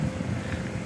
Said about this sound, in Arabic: وغي سمحوا لي كاين الريح